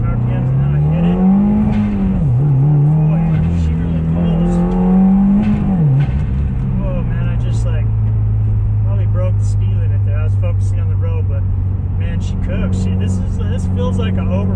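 Engine of a 2018 Subaru WRX rising in pitch under hard acceleration from 3,000 RPM, a loud close-up roar that climbs, dips at a shift, climbs again, then settles into a steady drone with turbo whooshes.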